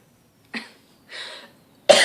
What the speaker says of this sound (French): Je suis vraiment tannée de tousser.